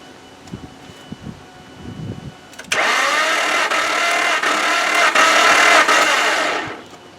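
A 1995 Nissan engine cranks over during a compression test: after a few seconds of near quiet, a loud, steady starter whirr runs unbroken for about four seconds, then cuts off, with no talking.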